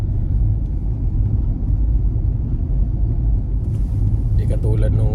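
Car driving along a bumpy, snow-covered road, a constant heavy low rumble of tires and suspension with jolting road noise throughout, near and loud, with faint higher clatter toward the end.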